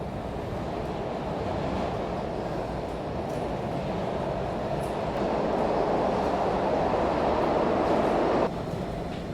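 A SEPTA Broad Street Line subway train rolls through North Philadelphia station with a steady, loud rumbling roar and faint rail clatter, continuous and close, with no talk.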